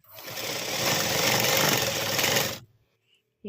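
A sewing machine runs steadily, stitching the folded hem of a nightie for about two and a half seconds, its rapid mechanical whir loud and close, then stopping abruptly and leaving near silence.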